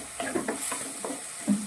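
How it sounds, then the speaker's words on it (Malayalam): Half a teaspoon of turmeric powder being sautéed in a pan for a sardine dish, with a gentle sizzle under a few quick stirring scrapes of a spoon, close and brief with no talk. "നന്നായിട്ട് വഴറ്റുക."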